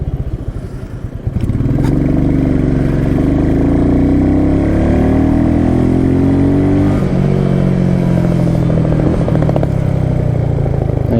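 A 2021 Royal Enfield Meteor 350 single-cylinder motorcycle rides steadily at close range, its engine note rising and dipping through gear changes over continuous wind rush, with no talk.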